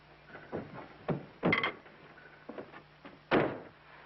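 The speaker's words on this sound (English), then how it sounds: "Will you close this door, please?" A door is pulled shut in an indoor scene from a 1937 film, giving a few soft, muffled knocks and thuds spread over a few seconds with a faint background hum.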